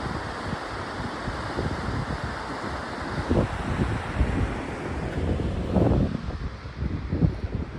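A foothills river rushes along in a steady broadband roar, with heavy wind buffeting the microphone in bursts over the flowing water.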